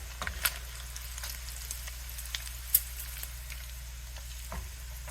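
Bacon fat sizzling in a wok, a steady, moderate crackle with scattered sharp pops over a low constant hum, no talking.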